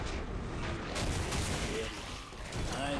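A Firebug weapon in Killing Floor 2 at Hellmark Station firing in one continuous stream, a steady dense rush of shots holding at an even, moderate level, with a voice talking briefly over it.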